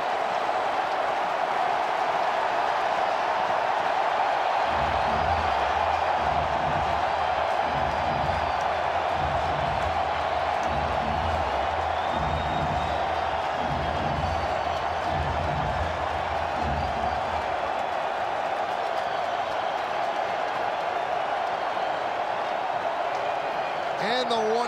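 A baseball stadium crowd makes a steady, distant roar that holds throughout, with a rhythmic clapping chant rising partway through, while a commentator talks over it.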